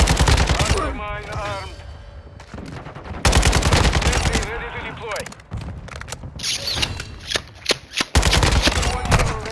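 An AK-style rifle fires in a video game battle, loud close bursts of rapid automatic shots broken by brief pauses and mechanical clicks, with a voice speaking between volleys.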